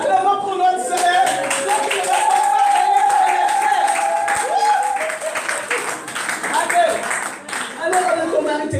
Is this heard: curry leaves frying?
no